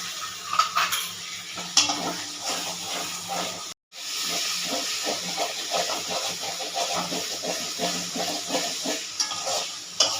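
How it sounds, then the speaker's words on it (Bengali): Chili and coriander spice paste with a splash of water being stir-fried in a pan, a steady hiss and sizzle with scraping stirring and utensil clinks against the pot, one brief gap partway through. "মশলাটা এবার ভালো করে কষে নেব।"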